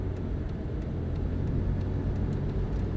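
A race car engine on track behind a V8, a steady low rumbling drone heard from the cabin, even and moderately loud with faint periodic ticks above it.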